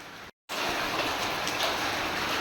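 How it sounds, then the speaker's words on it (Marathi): Hailstones and heavy unseasonal rain pelt down over a mango-growing area in Devgad taluka, a dense, steady hiss of impacts after a brief silent gap at the start. "हे बघा गारा पडत आहेत"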